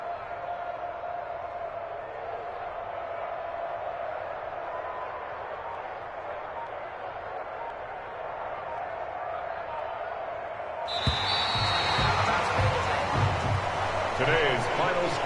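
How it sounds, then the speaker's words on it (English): Home crowd at the end of a football game, first a distant murmur under a commentator's voice, then a louder swell of cheering and clapping in the last few seconds. "And the home crowd applauding"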